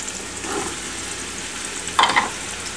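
Onion, carrot and zucchini sizzle steadily in hot olive oil for a Peruvian-style kaniwa, quinoa and amaranth pilaf, with a brief louder burst of stirring or scraping near the end.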